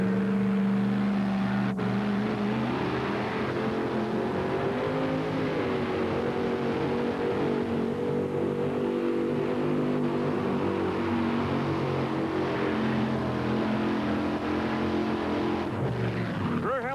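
An alcohol-burning two-wheel-drive pulling truck at a 1991 NTPA Rock Springs pull roars loudly and steadily, its engine pitch wavering as it strains under load, heard from close to mid distance over a crowd.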